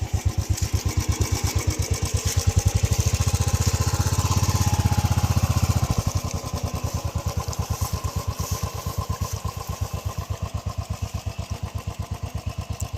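A motorcycle idles while turning around beside a flooded road in Wayanad. The close, rapid engine putter swells slightly in the middle, then settles back to a steady idle.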